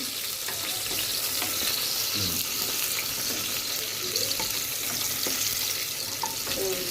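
Mutton korma ingredients with onion fry steadily in a pan, a continuous close sizzle with occasional stirring clinks and scrapes throughout.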